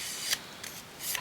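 Three quick snips of scissors cutting small folded paper hinges to size, light and close, spaced evenly about half a second apart.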